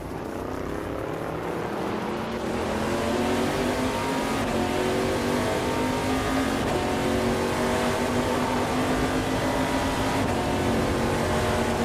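Race cars in a racing video game roar steadily and loud throughout, the engine pitch climbing as they accelerate nose to tail, with no talk over it.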